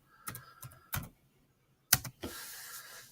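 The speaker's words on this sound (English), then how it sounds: "use the backspace button on your keyboard to remove the excess word and just replace that with test" Keys clack on a computer keyboard in short separate bursts, a few quick taps then a pause, ending with a sharp click and a brief rushing noise, quiet and close with no speech.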